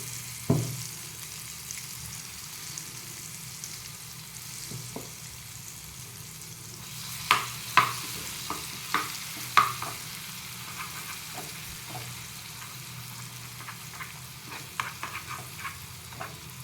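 Crushed garlic and asafoetida hit hot oil in a pan, giving a soft continuous sizzle broken by sharp spattering pops and scraping stirs, strongest midway, with no talking.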